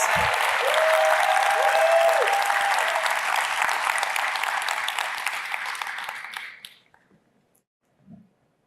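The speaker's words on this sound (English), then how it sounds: "Let's give them a big round of applause." An audience at a tech company presentation breaks into loud, dense applause that holds steady for about six seconds, then fades abruptly into silence.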